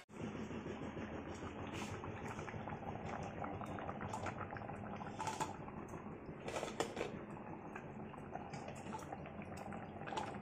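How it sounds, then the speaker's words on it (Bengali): A pot of lentil-fritter curry with potatoes simmers on the stove, its boiling gurgle a steady, dense bubbling that stays even and fairly close throughout, with a few brighter spits and pops rising above the churn. "এবার ঝোলটা ফুটুক, আলুটা সেদ্ধ হোক"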